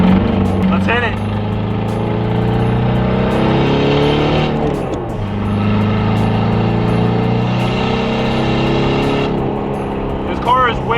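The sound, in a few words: Mark 5 TDI diesel car driving on stock tires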